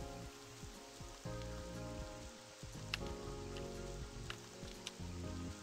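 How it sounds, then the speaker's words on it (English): Steady rain falls in a video game scene, a continuous hiss of drops spattering on surfaces with faint music underneath and a few brief sharper ticks. "What is this rain gonna let up?"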